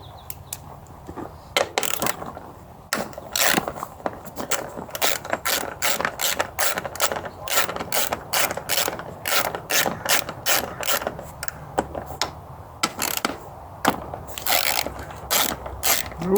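A ratchet backs out 10 mm bolts on a 1985 Honda Shadow VT1100 motorcycle, giving close, rapid clicking bursts repeated many times with short pauses between runs.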